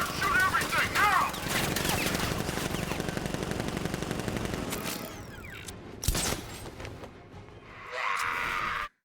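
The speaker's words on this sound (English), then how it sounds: "Open fire! Shoot everything, now!" Batman: Arkham Knight combat: sustained rapid machine-gun fire rattles loud and close for several seconds, then breaks into scattered shots and mechanical clatter amid game effects, with voices briefly present.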